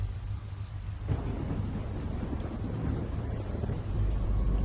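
Thunder rumbling with rain during a lightning scene in the RWBY animated series, a sudden loud crack then steady heavy downpour and low rolling rumble throughout.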